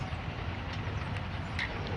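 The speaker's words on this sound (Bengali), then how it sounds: "আন্তনগর Cox's Bazar express Hasanpur railway station অতিক্রম করে যাচ্ছে" Cox's Bazar Express intercity train with locomotive 3004 passing Hasanpur railway station on the loop line, a steady low rumble of rolling wagons heard from a distance, continuous and even throughout.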